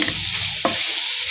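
Radish stir-fry with chopped coriander leaves being stirred in a pan, a steady close sizzle with one sharp spatula scrape partway through.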